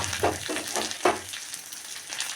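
Bay leaf and dried red chilli crackling in hot oil for a tempering, a soft sizzle with a few quick stirring scrapes near and moderately loud, no talking.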